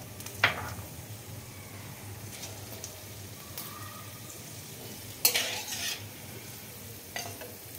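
Whole garam masala spices dropped into hot oil in a pan after fried potatoes, a soft low sizzle with a few clinks and scrapes of a stirring spoon, quiet and close.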